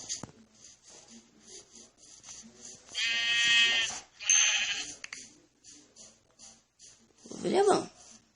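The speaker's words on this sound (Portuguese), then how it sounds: "Opa, ovelha." Sheep in a Minecraft-style survival game bleat once, a short harmonic baa, with another brief animal call near the end, under someone talking steadily in Portuguese.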